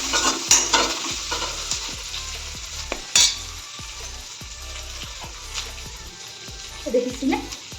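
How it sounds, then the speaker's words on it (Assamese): Indian olives (jolphai) roasting in a hot pan on a gas stove, giving a soft crackling sizzle with occasional scraping and stirring knocks, a few louder clatters standing out. "জলফাই দুটা পুৰি লওঁ"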